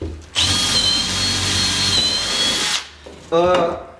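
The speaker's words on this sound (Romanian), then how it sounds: "Dați câteva găuri, nu le dați direct așa pentru că la fel se poate crăpa, dați pe altă nervură." A power drill bores holes into a wooden climbing hold: a loud steady high whine lasting a couple of seconds, then stopping, followed by a short burst as the drill spins up again, with a voice speaking nearby.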